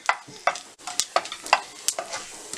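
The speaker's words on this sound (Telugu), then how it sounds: "ఆయిల్ వేడిన తర్వాత ఆవాలు, మినపప్పు, శనగపప్పు, కొంచెం కరివేపాకు వేసుకొని ఫ్రై చేసుకోవాలి." Mustard seeds, urad dal, chana dal and curry leaves frying in hot oil, with a steady crackling sizzle broken by repeated sharp spattering pops and spoon knocks, close and fairly loud.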